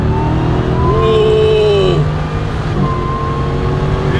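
Demon-swapped Jeep Gladiator on 40-inch tires launching hard, its supercharged engine roaring loud and close with a rising rev sweep midway, continuous and steady throughout.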